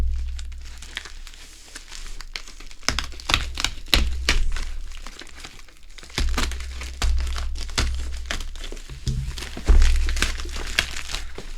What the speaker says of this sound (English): I guess I'm just going to cut it all open